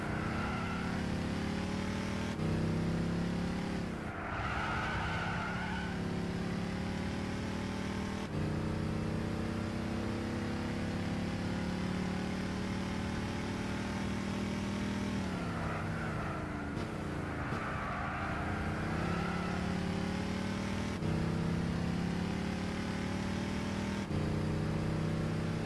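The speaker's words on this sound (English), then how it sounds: "we're driving the 1959 Chevrolet Corvette StingRay Racer Concept from Gran Turismo 6" A 1959 Chevrolet Corvette StingRay Racer Concept in Gran Turismo 6 runs at Goodwood Hill with its engine droning loud and constant, and the pitch rises and falls through repeated gear changes.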